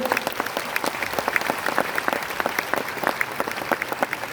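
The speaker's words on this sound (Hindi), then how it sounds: "एक बार तालियों से उनका भी स्वागत कर दीजिए" An audience applauds at a silver jubilee event in Kolkata, with many individual claps audible in a steady, moderately loud patter.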